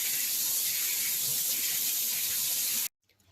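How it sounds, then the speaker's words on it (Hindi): A kitchen tap runs cold water over freshly boiled rice for mutanjan, a loud, steady hissing stream close by that cuts off abruptly near the end. "और ऊपर से ठंडा पानी डाल देते हैं ताकि कुकिंग का प्रोसेस रुक जाए।"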